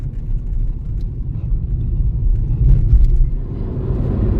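A car crawls slowly along a congested service road full of diversions on a highway trip from Bangalore to Pune, giving a steady low engine and road rumble with no voices.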